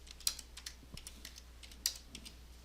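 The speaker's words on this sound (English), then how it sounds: "A user can type in a new employee's name." Light tapping on a computer keyboard, a short run of soft, irregular key clicks with a couple of sharper strokes, close and quiet in an otherwise still room.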